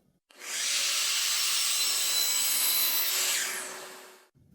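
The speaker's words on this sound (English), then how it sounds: "there's one more thing we're going to do on the miter saw before we move on" Miter saw cutting a miter on a wooden corbel: one continuous loud whine and rasp of the blade through wood, lasting about four seconds before cutting off.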